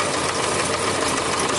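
A Yamaha Diversion motorcycle engine with a leaking fuel pump runs close by, a loud, steady knocking rattle with no talk over it.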